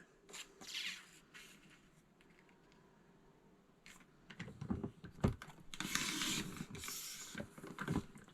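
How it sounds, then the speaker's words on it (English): Paper is cut during scrapbook layout work, a few scraping, rustling strokes that grow louder and denser toward the end over a quiet room, with no one talking. "now you're going to make a 4 inch cut"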